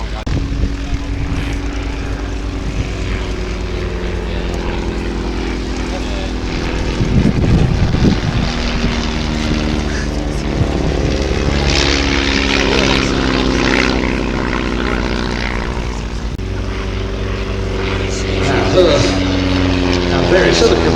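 A Bücker Bü 131 Jungmann propeller biplane drones through an aerobatic display at an air and car show, its engine note rising and falling as it passes, steady and fairly loud throughout, with speech over it.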